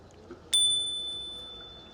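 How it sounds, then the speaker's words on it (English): A single bright ring of a bicycle bell on a forest road ride, sharp and close, with a clear metallic tone that lingers and slowly fades over faint outdoor background. "we'll hit them with the bell here"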